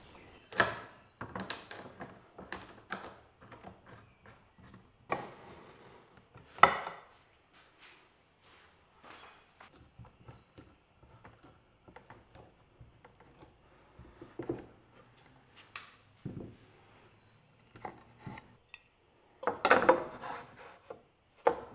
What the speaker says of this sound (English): Then just clamp the panels together.